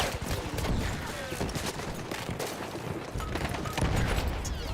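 Dense gunfire crackles almost nonstop in a Battlefield match, with grenade blasts booming underneath, loud and chaotic throughout, with no pauses.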